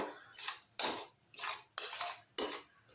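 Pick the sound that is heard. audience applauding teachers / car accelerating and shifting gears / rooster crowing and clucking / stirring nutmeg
stirring nutmeg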